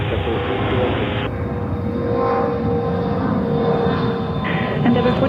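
JetBlue jet taking off from runway 13 right at JFK airport, a loud steady engine roar with broadband rush, heard alongside radio chatter cutting in and out.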